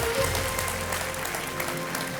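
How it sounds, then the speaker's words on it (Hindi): Studio audience at a televised quiz show applauding steadily, a dense wash of clapping that holds at an even level throughout. "और तालियां बजती रहनी चाहिए"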